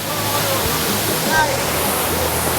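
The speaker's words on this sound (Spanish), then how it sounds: "Y el Salto del Limón se alza 40 metros sobre el nivel de la base." Salto del Limón, a 40-metre waterfall in the Dominican Republic, roars as a steady, loud, broadband rush of falling water filling the whole clip, with faint bird calls drifting through.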